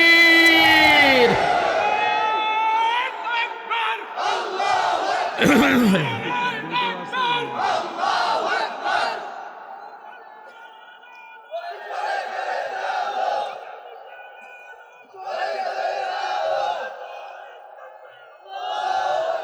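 A crowd at an Islamic sermon (waz) shouts the takbir response together in loud, repeated bursts of massed voices. The swells rise and fall over about twenty seconds, with short quieter gaps between them.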